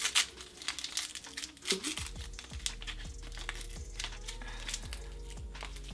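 Close crinkling and tearing of paper and plastic wrapping in quick bursts as a gift box package is opened, with faint rustling and soft background tones between them.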